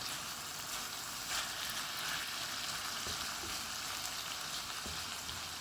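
Pork and vegetables sautéing in a pan for Filipino pinakbet give off a steady, even sizzle, moderately quiet and unbroken, with no one speaking.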